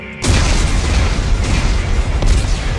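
Explosives detonate in the sci-fi horror game Dead Space 3: a sudden, loud blast hits after a brief quiet moment, then a dense roaring rumble holds for the rest of the clip, with no voices.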